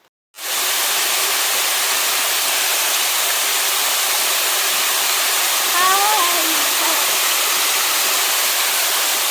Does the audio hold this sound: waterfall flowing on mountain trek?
yes